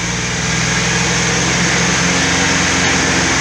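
A camper van engine idles with a loud, steady, continuous hum and rumble, close by, with no talking over it.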